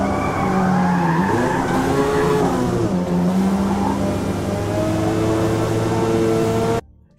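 Tires squealing as they lose and regain grip in the Forza Motorsport racing game, with a steady engine roar and wavering screech held loud and continuous throughout before cutting off abruptly near the end.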